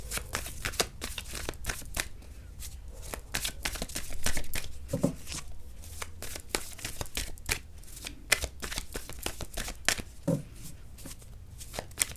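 Tarot cards are shuffled repeatedly, producing rapid, crisp riffling clicks and flutters in irregular bursts, close and moderately quiet, with no talking.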